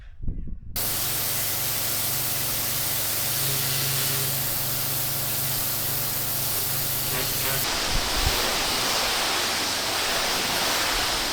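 A pressure washer blasts a dirty shipping container with a loud, continuous hiss of spray that holds steady throughout, after a brief quiet start.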